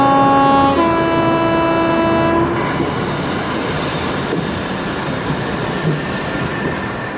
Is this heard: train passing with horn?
yes